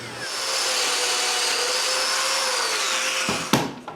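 A power saw cuts a length of pine board for a cabinet back, a loud, steady motor whine held for about three seconds before it winds down with a sharp clunk.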